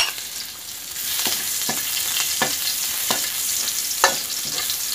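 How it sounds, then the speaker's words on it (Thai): Chopped garlic stir-fried in a hot pan for a Thai stir-fried chaya greens dish with pork, with a steady sizzle cut by spatula scrapes and stirring clacks recurring about every second, close and fairly loud, with no voices. "แล้วก็ผัดกระเทียม"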